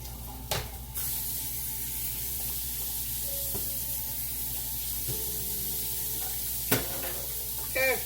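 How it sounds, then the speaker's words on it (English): Onions sautéing in a pan alongside potatoes, a steady, moderate sizzle with a few soft clicks and one sharp clatter of a utensil near the end. "I'm going to go ahead and let those onions saute a little bit more"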